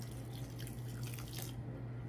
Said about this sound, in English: take our liquid here, and it pours right out the bottom